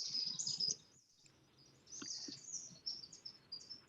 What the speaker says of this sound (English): honour the sounds that we're hearing, the beautiful birds from Reena's place